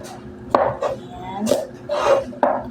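A knife chops tomatoes into large pieces on a cutting board, several separate knocks spaced unevenly at close range, with some talking in between.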